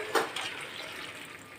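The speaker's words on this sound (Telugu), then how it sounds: "1 గ్లాసు నీళ్ళు వేసుకుంటున్నానండి." A glass of about 300 ml of water poured into spiced chicken curry with broad beans in a pot, a brief splash at the start and then a soft, fading trickle close by.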